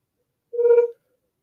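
Star Wars toy with a Kyber crystal emitting a short electronic ringing tone like a video-call ring, a single clean half-second beep in silence.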